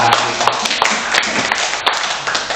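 A crowd claps hands at a community school event in Malang, Indonesia, a dense, steady patter of many hands close by, continuing throughout without pause.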